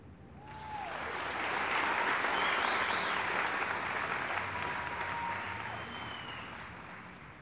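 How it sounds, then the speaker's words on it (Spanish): Audience applause after a dance performance on stage, a broad sustained wash of many hands clapping that swells to a peak and slowly tapers off, with faint voices mixed in. "Todo el mundo aplaudió."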